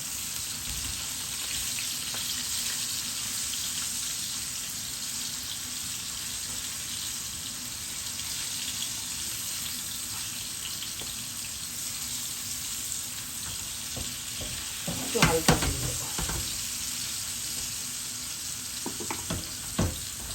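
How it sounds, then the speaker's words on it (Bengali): Dried fish frying lightly in oil in a pan gives a constant loud hiss for the whole stretch, broken by a brief clatter of a utensil being flipped partway through. "আমি এদিকে মাছটা উল্টিয়ে দিই একটু হালকা ভেজে নেবো"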